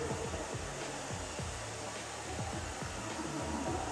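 A hair dryer blows a woman's hair dry at the back, a continuous close whooshing roar with faint wavering as the airflow moves across the hair.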